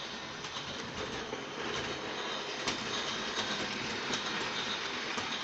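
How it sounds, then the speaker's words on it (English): A slow freight train crawls past on a branch line, its steady rumble and faint wheel clatter running continuously at moderate distance, with a few sharper clanks and light bird calls. "the crawling speed of our little freight train coming from the branch line"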